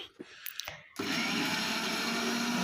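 An electric grinder whirs loudly as it grinds soaked urad dal for Medinipur-style bori. A few faint knocks and clicks come first, then the motor starts abruptly and holds a steady, dense roar.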